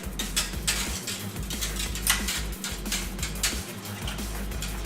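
Milk mixture being stirred in a pot for homemade yogurt, with a utensil clinking and scraping against the pot in a steady irregular rhythm up close, no talking.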